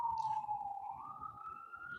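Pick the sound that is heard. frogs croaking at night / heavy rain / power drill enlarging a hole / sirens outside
sirens outside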